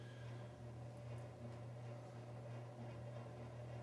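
An antique General Electric top-mount ceiling fan runs on low speed with a steady low hum and soft whooshing, accompanied by a faint rattling buzz from vibrating fluorescent lamp tubes, quiet and continuous with no talking.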